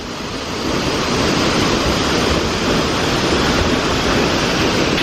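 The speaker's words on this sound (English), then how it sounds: "gotta get myself in the footage with the waterfall on a rainy day here in Sao Tome" Steady, loud roar of a waterfall on a rainy day in Sao Tome, a dense continuous rush of falling water heard up close with no talking.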